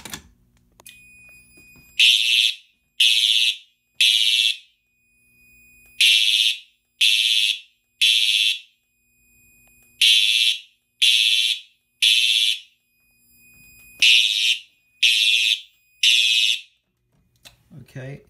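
Simplex fire alarm system set off by a pull station, sounding repeated bursts of three loud, shrill horn blasts separated by pauses, with a steady high tone running throughout and faint voices between the bursts.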